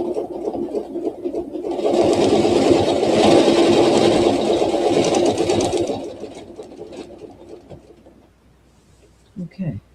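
Domestic sewing machine stitching a quilt panel with ruler quilting, a steady rapid mechanical whir that runs for about four seconds, then slows and fades, followed by a few faint handling clicks.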